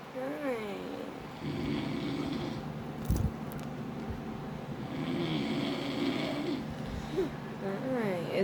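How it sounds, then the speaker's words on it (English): A man snores loudly in slow, rasping rhythmic breaths, close by, with a faint background hum and a few brief knocks, while someone talks softly at the start and end. "Is Daddy snoring?"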